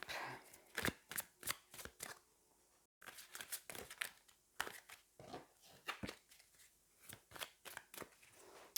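A tarot deck is shuffled by hand in a quiet room, producing repeated quick riffles and soft card slaps in an irregular rhythm with brief pauses, close and fairly faint, without talk.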